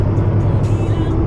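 Car engines idle and rumble in a queued line of traffic stopped at Rogers Pass in snowy bad weather, a steady low drone close by, with someone speaking over it.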